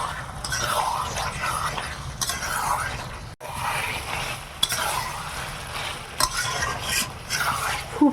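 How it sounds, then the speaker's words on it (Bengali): Chicken masala being stirred and sautéed in a pan until its released water cooks off: a continuous wet sizzle broken by repeated scraping strokes of a spatula against the pan, close up, with occasional metal knocks and no speech. "আর একটুক্ষণ কষাতে হবে, যে জলটা উঠেছিল আস্তে আস্তে জলটা মরছে।"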